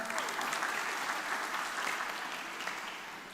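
An audience at a university talk on personal branding claps together in a steady, even wash of applause that fades slightly toward the end.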